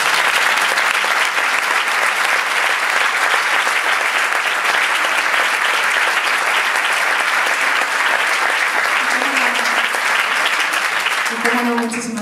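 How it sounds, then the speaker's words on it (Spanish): Sustained, loud applause fills a concert hall after an orchestral performance of a Mediterranean sea-themed program, thanking the technicians. A dense, even roar of clapping runs throughout, with a voice emerging near the end. "Por favor, un aplauso para todos."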